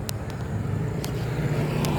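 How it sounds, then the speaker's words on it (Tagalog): Motor vehicles rumble steadily along a village road in Barangay Binaliw, Calbayog, Western Samar, with a low continuous drone and a few faint clicks over the top. "may dadaan na ngayon ng mga sasakyan"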